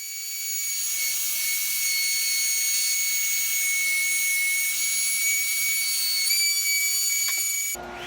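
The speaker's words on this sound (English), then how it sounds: "I'm using my router table with a 3/4 inch dado bit so that I can make dados for the shelves" Router table fitted with a 3/4 inch dado bit cutting dados in Baltic birch plywood, a loud, steady high-pitched whine with a grinding cut that runs for about seven seconds, then stops abruptly.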